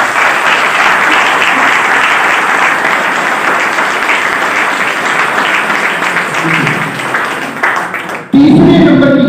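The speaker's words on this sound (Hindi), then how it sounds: "एक बार अपने लिए जोरदार तालियां।" Loud, sustained applause from a seminar audience fills the room, steady and dense, then cuts off abruptly into a brief different sound near the end.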